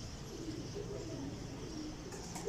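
Soft, low pigeon cooing repeats over a steady background hum, with a faint rustle near the end.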